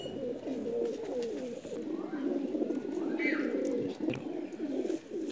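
Soft, continuous cooing from a young Pakistani pigeon, a squab sitting nearby, its low murmuring calls repeating steadily with a few faint chirps from other birds in the background.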